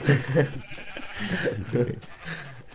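Sheep in the Minecraft video game bleat several times in short, nasal bursts, with people talking over them throughout.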